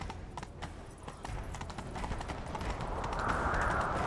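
Horse hooves clip-clop steadily in The Witcher 3 as a rider sets off in pursuit, a faint, continuous rhythm that grows slightly louder and busier toward the end.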